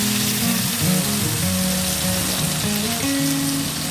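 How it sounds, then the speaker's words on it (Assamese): Potatoes being stirred with a spatula in a frying pan, giving a steady sizzle of frying with scraping and clattering underneath that runs throughout, no voices. "আকৌ হেতাখনেৰে আকৌ অকণমান লৰাই লৈছোঁ এনেকৈ"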